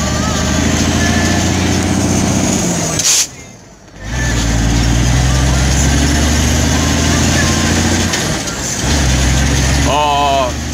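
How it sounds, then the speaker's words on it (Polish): A 160-horsepower turbocharged farm tractor hauling trailers runs loud and close, with its deep engine drone briefly cutting out midway and a rising turbo whine near the end. "O, to jest coś. Te turbo i chmura dymu."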